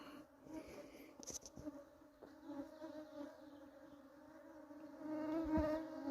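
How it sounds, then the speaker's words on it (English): Outdoor mosquitoes buzzing with a thin, wavering whine that persists throughout and swells louder near the end, heard close and without talk. "I'm gonna show you what the mosquitoes are like here."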